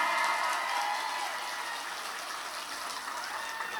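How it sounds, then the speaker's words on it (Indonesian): An audience at an Indonesian comedic sermon gives a short burst of applause that is loudest at the start and then thins to a softer patter, heard from a moderate distance. "Tepuk tangan."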